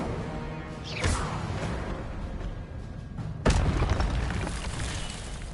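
Incendio fire spell cast in a video game: two sharp whooshing bursts of flame, the second louder and boomier, each swelling fast and then trailing off into a rumbling crackle, with no voices.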